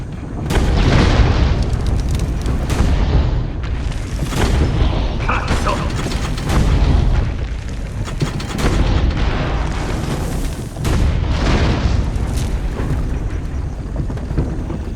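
Repeated heavy booming cannon blasts, one after another, with mechanical clanking and rumble in a loud, busy soundscape, in the video game Assassin's Creed Brotherhood.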